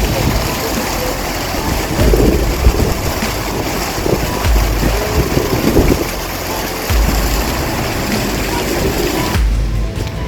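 A waterfall rushes steadily beside a Mahadev statue in Gangtok, a loud broadband roar with wind buffeting the microphone throughout and a voice speaking over it.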